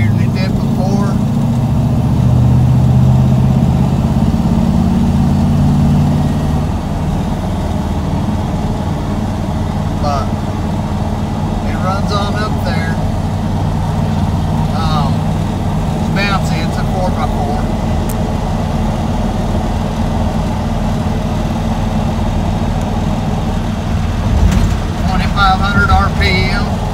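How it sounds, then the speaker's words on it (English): A GMC K2500 truck with a swapped 6.0 LS V8 idles steadily nearby, a deep throaty rumble that carries on without a break through the whole stretch. "The motor sounds really throaty. A lot throatier than it did before."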